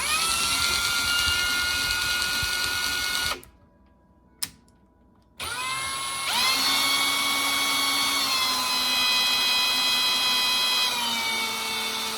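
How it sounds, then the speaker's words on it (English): A power drill countersinks holes for drawer hardware, running loud and steady in a long whine, stopping briefly with a sharp click, then starting again with a shifting pitch. "So let's try to countersink these again."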